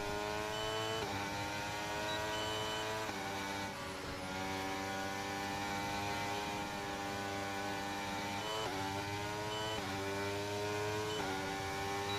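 A race car engine in a racing video game drones steadily at high revs, a dense harmonic whine with a few brief shifts in pitch, continuous and evenly loud throughout.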